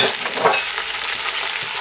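Onions, ginger-garlic paste and tomatoes fry in hot oil for vegetable biryani, giving a steady, close, loud sizzle and crackle with light stirring scrapes and no talking.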